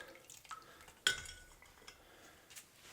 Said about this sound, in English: She's all sudsy with the super clean. And I just give it a little rinse.